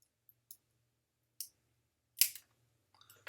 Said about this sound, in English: So I'm actually just going to use a pair of shears that I have. I'm going to see if I can clip them.